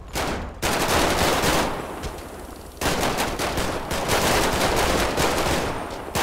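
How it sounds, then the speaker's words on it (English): Gunfire in a police shootout with Department of Justice officers, loud rapid bursts of shots crackling almost continuously, with a brief lull before another dense volley. "shots fired"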